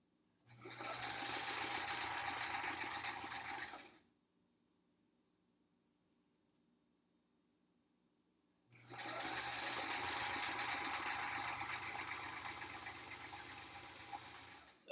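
A sewing machine runs fast stitching quilt pieces for an hourglass block quilt top, a loud steady whirring burst of about four seconds, a pause, then another long run that fades slightly at the end.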